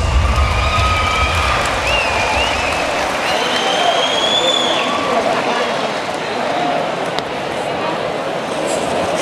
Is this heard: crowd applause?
yes